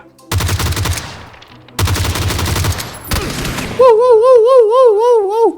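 Automatic gunfire in PUBG, the battle royale video game: three loud, close bursts of rapid shots separated by short pauses, then a warbling, siren-like electronic tone takes over.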